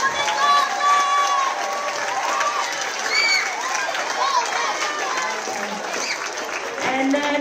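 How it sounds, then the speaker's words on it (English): A school holiday concert audience applauding in a hall, sustained clapping from a crowd with scattered children's voices and chatter mixed through it. "Can we give them one more round of applause, please?"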